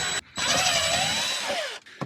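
A power drill whirs in one sustained burst, close and fairly loud, as screws come out of the cover of a Maxxair roof fan in a van, with a short final blip at the end.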